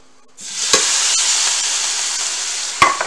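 Cube steak sizzles steadily in oil on a front grill, a loud continuous fry that starts abruptly, with a few sharp pops and clatters near the start and end.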